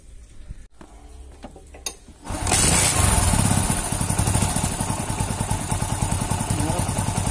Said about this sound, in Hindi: तो चलिए हम बाइक को स्टार्ट करते हैं।